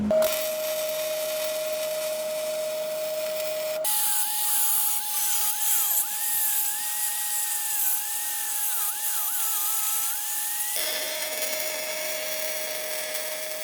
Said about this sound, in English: I'll have to grind that out.